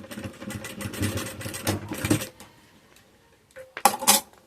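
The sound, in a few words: sewing machine stitching fabric for an Easter egg holder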